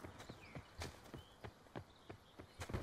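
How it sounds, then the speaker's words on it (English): Footsteps in Call of Duty: Black Ops (Blackout mode), a run of about ten hard, evenly paced steps that sound close, heard alone with no talk. "I hear footsteps."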